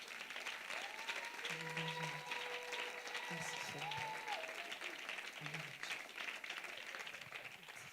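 Church congregation applauding and acclaiming the Lord during a Sunday service, steady broadband clapping throughout with voices calling and singing over it.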